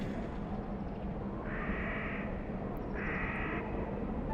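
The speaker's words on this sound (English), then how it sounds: "What is that noise? It sounds like a angry parrot." Two harsh, screechy creature cries like an angry parrot, each lasting under a second with a pause between, ring out over steady game background noise in Final Fantasy XIII.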